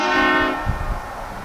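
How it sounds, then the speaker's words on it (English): A loud, brassy air train horn on a 2020 Chevy Tahoe fire command vehicle, fed by an onboard compressor, blasts briefly and cuts off, followed by low rumbling and faint knocks. "all the vehicles are equipped with an onboard compressor with horn blasters, conductor, train horns"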